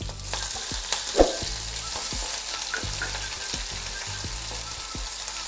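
Ginger garlic paste and green chillies fry in a pan, a steady sizzle broken by repeated soft scraping stirs and a few light clinks, close and continuous with no talking.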